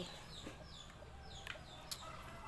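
Chickens cluck faintly in a rural Thai home garden, with a few soft, scattered calls over a low, steady background and no talking.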